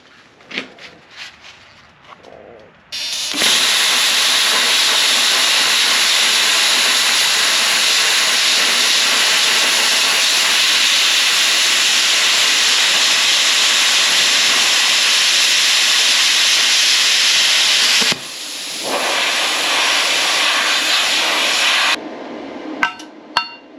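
A Bestarc BTC500 plasma cutter slicing through quarter-inch metal: a loud, steady roaring hiss starts abruptly after a few quiet seconds, dips briefly near the end of the cut, then resumes before cutting off.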